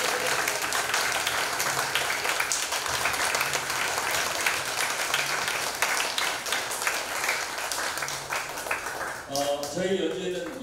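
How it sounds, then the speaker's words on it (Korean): Audience applause after a community orchestra concert, sustained and fairly dense clapping that continues steadily, with a voice briefly speaking over it near the end. "선생님 위해서 박수 한 번"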